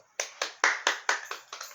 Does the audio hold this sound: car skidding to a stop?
no